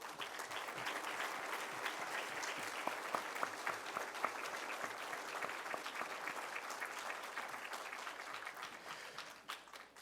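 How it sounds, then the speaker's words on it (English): At a school dedication ceremony, a crowd applauds as the elected officials of Dallas County and North Texas rise. The clapping is sustained, even and dense, stays moderately loud, and tapers off near the end. "would you please rise so we can give all of you a round of applause?"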